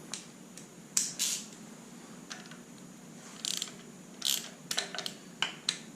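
Socket ratchet snugging bolts on a forged VQ37VHR engine during a build, giving short clicking bursts at irregular intervals, close and fairly crisp against a quiet hum.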